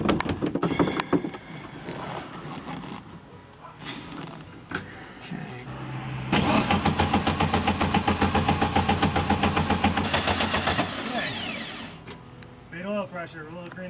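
A classic Volkswagen Beetle cranks and starts after sitting for more than 20 years, its engine then revving in a loud, rapid, pulsing rhythm for several seconds among stretches of quieter handling noise and speech.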